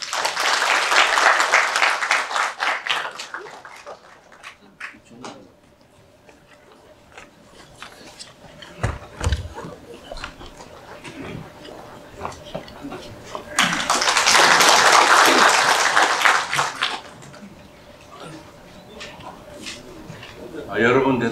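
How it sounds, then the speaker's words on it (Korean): An audience at the 30th Mr. Gangwon bodybuilding contest in Samcheok applauds as the city mayor is welcomed, with loud bursts of clapping around an announcer's voice and a quieter stretch in between. "삼척시 박상수 시장님을 큰 박수로 모시겠습니다"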